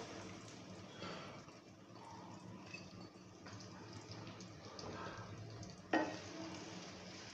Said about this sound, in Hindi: अब इसी ऑयल के अंदर मैं प्याज को भी फ्राई कर लूँगी।